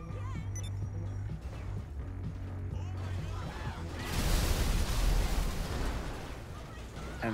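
A car explodes in a video game, a loud broad burst swelling midway and rumbling on for several seconds, with a crackling fire and tires popping in it, over low steady game music and other noise.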